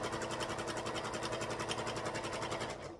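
A sewing machine back stitches through the pocket of a DIY purse, a close rapid pulsing whir for about three seconds that slows and stops at the end.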